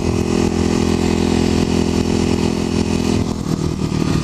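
Kawasaki KLX250SF motorcycle riding, a loud steady single-cylinder engine drone close to the rider, holding an even pitch before settling slightly lower near the end.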